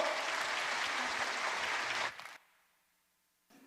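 A church congregation applauds children, with steady clapping for about two seconds that then cuts off into near silence, followed by a brief faint sound at the end.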